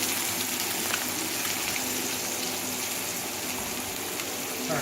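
Butter sizzles in a pan on medium-high heat before salmon goes in, a dense, steady crackling hiss that fills the space evenly from start to finish with no talking over it.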